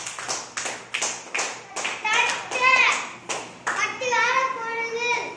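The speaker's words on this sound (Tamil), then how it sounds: "தங்கப்பில் நல்லா கைதட்டுங்க." Children clap their hands during a school activity game, a series of sharp, fairly regular bursts of applause with children's voices and an adult speaking over the claps.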